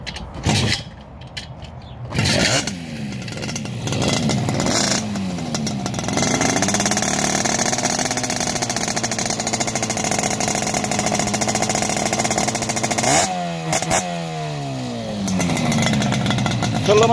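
A moped engine fitted with a Glardoni exhaust cranks and catches, then settles into a loud, buzzing idle that carries on steadily up close.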